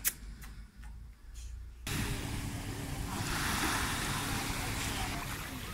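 Sea surf washing onto a shore, a steady broad rush of waves close by with some wind noise, starting after a brief quieter moment with distant sounds.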